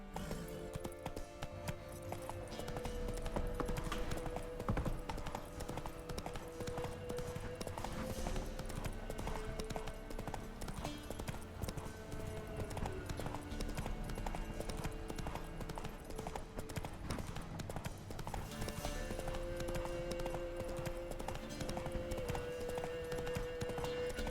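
A horse gallops in The Witcher 3 with steady, rapid hoof clip-clops under continuous game music for the whole stretch; a little faint talk may drift in.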